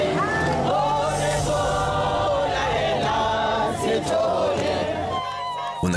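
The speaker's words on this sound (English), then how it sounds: "Here they are chanting, "Why are you killing us, Sithole? Why are you killing us?"" A crowd of women chants angrily in protest outside a courtroom, with loud, continuous massed voices and shouts rising and falling together.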